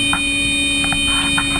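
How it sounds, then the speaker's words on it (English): An alarm sounds aboard a crashing plane, a continuous steady electronic tone with faint higher blips over it, loud and sustained throughout, with no voices. "Suddenly, the alarm sounds."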